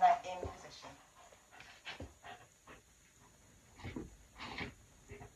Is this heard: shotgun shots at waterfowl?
no